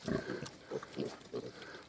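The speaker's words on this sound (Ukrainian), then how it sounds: "оце ось свинка" Mangalica pigs grunting in short repeated bursts, close by, several snorts in quick succession with no talking.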